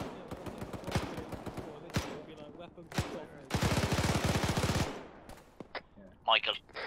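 Automatic gunfire from a weapon cooking off in the Arma 3 video game: scattered loud shots and short bursts, then a dense sustained burst of rapid rounds lasting over a second, followed by sharp isolated cracks and a brief chirping tail.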